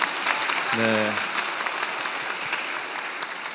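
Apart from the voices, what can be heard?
audience applause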